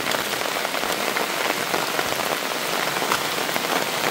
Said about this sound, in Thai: นี่แหละพี่น้องฝนก็ตก